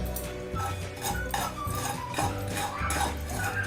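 Poppy seeds dry-roasting in a pan, stirred steadily with a utensil that scrapes and clinks against the metal in a continuous close rhythm, with no talking.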